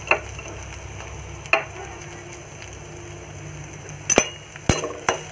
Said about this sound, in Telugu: బాగా వేగిన తర్వాత ఉల్లిపాయ ముక్కలు కూడా వేసి